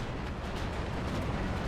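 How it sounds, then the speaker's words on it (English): Explosions from a fighter-bomber run in the Steel Division 2 war game, a dense continuous rumble of blasts and artillery-like bursts at steady loudness, with no talk. "Fighter bomber run over here in the center"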